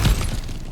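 Something smashed apart in God of War Ragnarök in Svartelfheim, a single loud, close crash that breaks and fades within a second.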